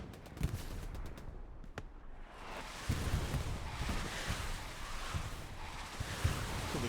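Katyusha rocket barrage from the World War II shooter Hell Let Loose, heard as sharp distant impacts amid rolling rumble, crackling gunfire and wind noise, building into sustained loud blasts over the back half.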